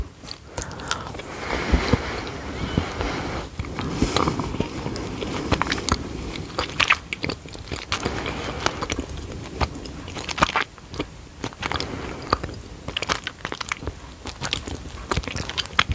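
Orange-flavoured white chocolate being bitten and chewed close to the microphone, with repeated crisp snaps and wet, crackly chewing in an irregular rhythm, loud and intimate, with no talking.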